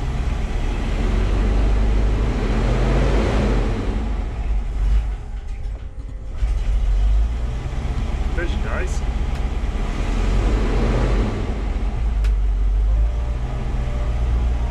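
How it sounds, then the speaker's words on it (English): A Range Rover Classic engine with a rough idle is revved slowly, its low rumble swelling and easing in long waves close by, while someone talks over it. "It doesn't idle super good, but if I rev it slowly,"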